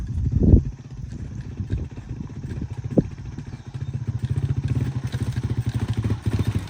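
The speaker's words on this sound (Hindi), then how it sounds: "इस रोड पर बाइक चलाना, बड़ी बात है" A motorcycle rides over a rough mountain road, its engine thrumming close by with rattling jolts and a couple of sharp knocks, the putter growing stronger toward the end.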